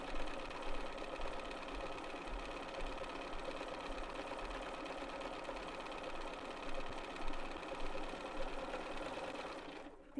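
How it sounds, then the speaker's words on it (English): A BERNINA sewing machine stitches a decorative triple hemstitch at medium speed, a steady, even mechanical whir running continuously for about ten seconds close up, then stopping near the end, without any talking. "These still do take a relatively long period of time to stitch out because you're doing that decorative stitch, that triple stitch going back and forth multiple times."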